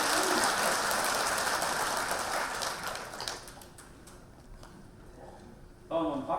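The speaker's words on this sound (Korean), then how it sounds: "박수로 합니다" Audience applause at a Busan veterans' association security rally and branch chief inauguration ceremony, a dense sustained clapping that fades after about three seconds, followed by a quieter hall and a brief renewed burst at the end.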